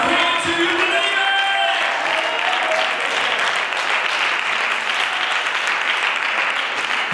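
Church congregation clapping hands, loud and sustained applause from a crowd with a few scattered cheers blended in, holding strong throughout.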